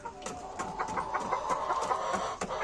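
Rapid, irregular taps of a Boston breeder chicken pecking at a hard surface, with soft clucking underneath, fairly close and steady throughout.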